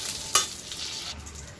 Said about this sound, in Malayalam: അതിനകത്തേക്കൊരു 2 ടേബിൾ സ്പൂൺ ഗീ ആണ്